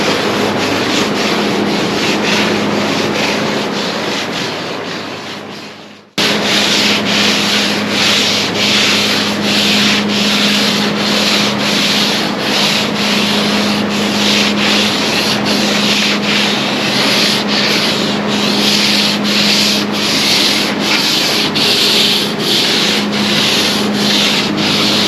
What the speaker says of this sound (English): now we're gonna kind of sand the foam right down to it